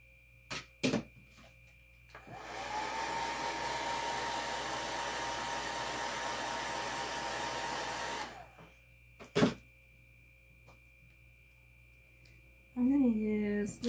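A hair dryer blows steadily on a craft project for about six seconds, a loud continuous whooshing hum with motor whine, preceded and followed by brief handling clicks and knocks.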